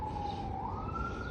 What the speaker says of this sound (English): The ambulances again.